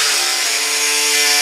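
A small, compact precision saw buzzes through a fiberglass corner, a close, continuous high-pitched whine with no pauses.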